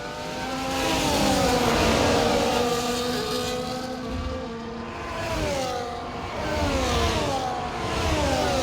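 A Formula 1 car in F1 24 screams down a sweeping straight at Miami with DRS open, its engine loud and close, rising and falling in pitch through gear changes, with other cars audible alongside.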